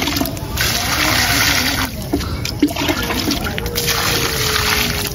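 Water pours and splashes onto garden plants at a home, a steady running trickle with brief splatters, close by, while voices talk faintly in the background.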